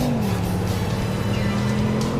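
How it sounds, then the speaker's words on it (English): Steady idling drone of a T5 Turbo car engine in the Roblox game Greenville, a continuous low hum with a slight dip in pitch early on, loud and unbroken throughout. "And let's actually get this car running."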